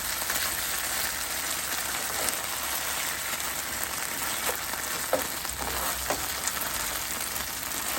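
Slices of Spam frying in a pan, a steady dense sizzle with soft scrapes and taps as they are stirred and flipped, close and continuous throughout.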